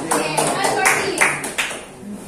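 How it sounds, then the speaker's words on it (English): An audience claps for first-time attendees at a product presentation, a steady patter of hands that mixes with talk in the room. "give them a million clap"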